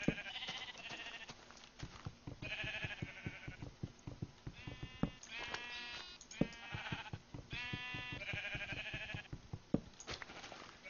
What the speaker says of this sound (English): Dear sheep, your noises are insufferable.